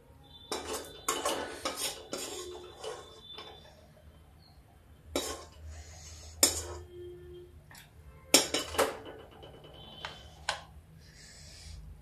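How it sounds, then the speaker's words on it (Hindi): A metal kadai comes off the stove and is set down. Scattered clanks, clinks and scrapes of cookware and utensils ring out close by, spaced across a quiet kitchen with no talk. "कढ़ाई उतार के इधर रख देते हैं। ये रख दी मैंने कढ़ाई।"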